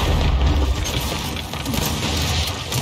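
A frag grenade blast in Gears 5, a dense, loud burst of low rumble and debris noise that fills the whole stretch with steady, heavy energy and no clear separate hits.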